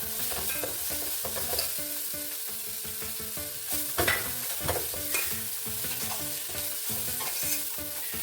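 Chopped onion sautés in a hot pan for chicken curry, giving a steady, loud sizzle with repeated scraping and stirring clatter throughout, and no voices.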